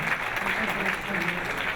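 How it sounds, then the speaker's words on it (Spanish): A crowd of guests claps steadily through the brief moment at the Fundación Por México 2019 gala dinner, with dense, sustained applause and a faint murmur of voices. "un aplauso enorme para Esteban"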